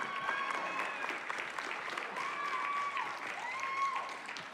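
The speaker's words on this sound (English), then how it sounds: "Let's give another round of applause for all of tonight's incredible entrepreneurs" Crowd at an entrepreneurship competition night applauds the grand prize winner, sustained dense clapping with faint crowd noise and a few brief tones over it, steady and moderately loud throughout.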